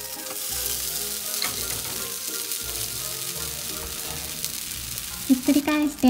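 An oatmeal blueberry pancake fries over medium heat in a pan, giving a steady, close sizzle with faint stirring or scraping touches, before a voice briefly speaks at the end.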